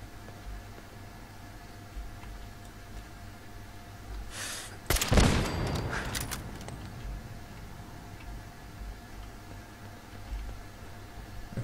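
A single sniper rifle shot fired at turrets in Fallout 4 lands as one loud, sharp crack midway through, trailing off in a brief decaying rumble over a low, steady background hum.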